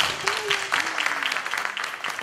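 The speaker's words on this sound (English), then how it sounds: "That's worth the double round of applause." Brief burst of clapping from a conference crowd, dense and lively, with a voice briefly audible underneath.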